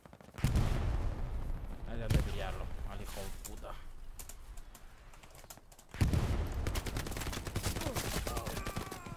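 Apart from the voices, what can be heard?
gunfire in video game Hell Let Loose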